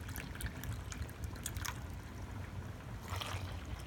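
Water trickles and splashes faintly into a measuring cup for samosa dough, in a few short pouring bursts over a quiet background.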